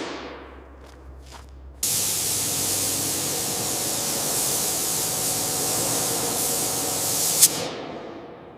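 Primer sprayed from a can onto a model Emily tank engine, a steady close hiss starting abruptly after quieter handling noises, holding evenly for several seconds before a brief sharp peak and a fade.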